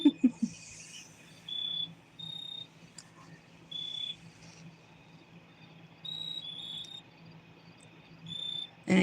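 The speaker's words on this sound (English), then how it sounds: "Listening to the crickets out here is absolutely wonderful." Short, evenly spaced high chirps from crickets outdoors at night repeat over a quiet low hum, with a couple of brief louder knocks at the start and end.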